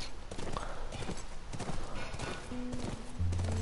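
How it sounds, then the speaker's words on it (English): A horse's hooves clip-clop at a steady walking rhythm in The Last of Us video game, fairly close and continuous, with light background game ambience. "That's our horse."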